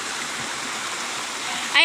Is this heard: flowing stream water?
yes